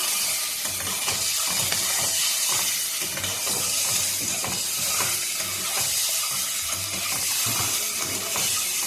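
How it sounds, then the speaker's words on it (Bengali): Eggs fry in hot oil in a pan for egg curry, giving a continuous loud sizzling hiss with small crackles and pops throughout, no talking. "ডিমগুলো ফ্রাই করে নিচ্ছি।"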